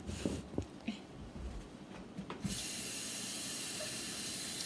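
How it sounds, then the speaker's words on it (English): Tap water gushes into an empty soup can as it is rinsed in a kitchen sink. After a few seconds of light clatter and handling noise, a strong, steady rushing stream takes over and continues to the end. "Now rinse your can."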